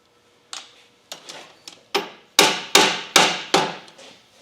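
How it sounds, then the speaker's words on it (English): Hammer blows on a stuck bearing during a drive repair: about eight sharp metallic taps, spaced roughly half a second apart and growing louder and heavier as they go, with no talking. "Might have to give it a little tap. Seems like it's stuck on that bearing."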